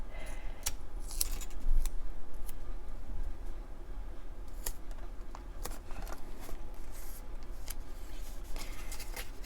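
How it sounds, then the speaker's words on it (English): Washi tape being handled and cut at a desk, heard as faint, scattered crinkles, snips and light taps against a quiet room. "I'm trying to use up the washi tapes that I have here"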